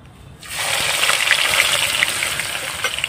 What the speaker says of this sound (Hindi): इसको बढ़िया से ब्राउन करना है, प्याज के लच्छे को बढ़िया से ब्राउन करना है।